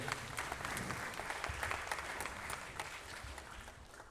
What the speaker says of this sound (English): we can give them a clap whilst they come on as well